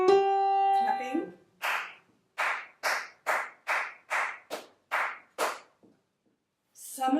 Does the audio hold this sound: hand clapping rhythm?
yes